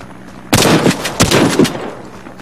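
Two loud shotgun blasts from close-range Warface training gameplay, each a sharp broadband crack with a short decaying tail, spaced about 0.7 seconds apart over a quiet background.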